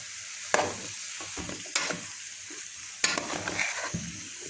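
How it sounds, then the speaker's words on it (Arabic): Zucchini and onion sautéing in a pan, a soft continuous sizzle broken by a few sharp scraping stirs of the spoon. "متنزليش بالطماطم الاول شوحي الكوسايه مع البصله"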